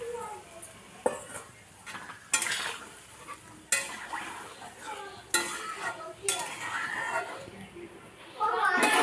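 Hot water is poured into a pan of cooked potatoes, raising a hiss and sizzle broken by several sharp clanks of a utensil against the pan, with a voice talking in between.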